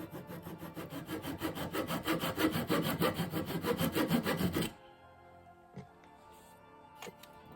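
Hand saw cutting off the tips of wooden dowels, a close, rhythmic series of back-and-forth rasping strokes that stop abruptly, followed by quiet and a couple of faint knocks.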